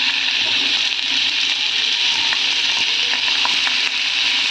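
Mutton kidney frying in hot oil with masala, a steady, close, continuous sizzle and crackle with small pops throughout, no talking.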